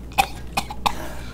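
Three sharp coughs spaced out over about a second, close and fairly loud, with no talking.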